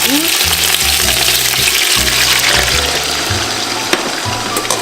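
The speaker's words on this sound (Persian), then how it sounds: "خب حالا من آب رو میریزم" Water hits a hot pan of fried chicken for barberry rice, giving a loud, close, continuous sizzle and bubbling hiss with faint clinks throughout.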